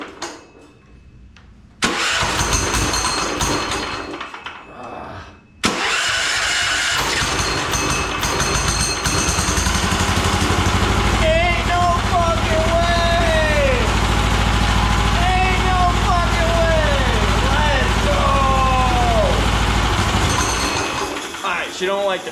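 A turbocharged 420cc go-kart engine cranks, catches and then runs loudly and roughly, revving up and down in repeated surges as it struggles on its fuel, close by and persisting for many seconds.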